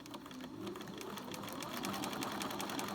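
A sewing machine runs a one-centimetre seam on the outer of a baker boy cap, a faint, steady rapid chatter of the needle continuing throughout.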